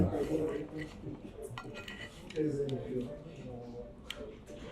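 Knife and fork scraping and clinking on a plate while cutting steak at an upscale steakhouse, a few soft taps and scrapes running under ongoing talk.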